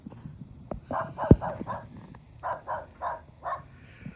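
A dog gives a short series of yips and barks, fairly close, with pauses between bursts and a sharp knock partway through.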